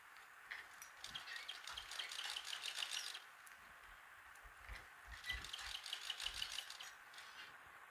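A sewing machine stitches piping onto a box-shaped roti cover in two runs of quick, close, rattling stitches, separated by a brief pause, with no talk.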